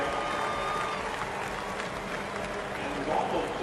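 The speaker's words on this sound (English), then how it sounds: "Let's give her a round of applause in the area." A distant crowd at the Indy 500 applauds a driver after a crash, a soft, continuous roar of clapping and cheering blended with broad track ambience.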